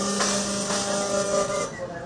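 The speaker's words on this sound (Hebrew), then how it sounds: "זו מדפסת שמדפיסה מוצר שהוא מוכן לטיגון" A 3D food printer prints a cultured fish fillet from real cells, ready to cook, making a steady close mechanical whir with a hissing texture and faint ticks throughout, with no one talking.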